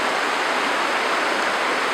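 Steady, dense rush of stream water flowing into a lake outdoors, a continuous broadband wash like a small waterfall, close and loud with no voices.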